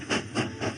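A departing steam train gives three swelling bursts of hissing steam about a third of a second apart, close and moderately loud, with a low rumble beneath and no voices.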